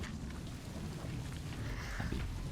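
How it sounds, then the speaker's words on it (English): Steady rain in the zoo-building game Planet Zoo, a dense even hiss of falling water that fills the whole stretch without letup, with no voices over it. "The rain has come."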